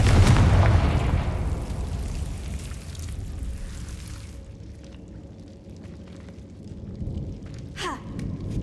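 A Confringo blasting spell bursts into a loud, deep explosion in Hogwarts Legacy, a heavy boom that decays into a long rumbling tail, followed by a brief sharp crackle near the end.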